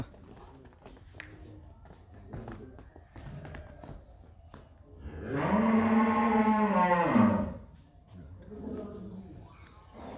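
A cow at a farm selling cattle ahead of the Eid Qurbani festival lets out one loud, drawn-out moo lasting about two seconds, with people talking nearby before and after.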